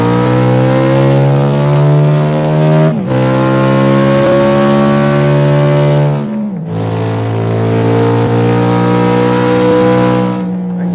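A 1970s American car engine revs hard and climbs in pitch, dropping briefly at two gear changes before surging again, loud and close with no talking.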